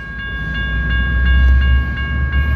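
Amtrak 719 passenger train passing the N St railroad crossing in Bakersfield, California, its horn sounding in steady repeated tones over a loud, close rumble of wheels and cars, with no talk.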